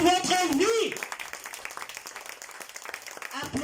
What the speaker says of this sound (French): Applaudissez Jésus pour votre vie.